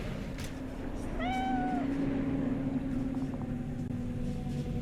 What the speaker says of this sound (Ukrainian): Котик.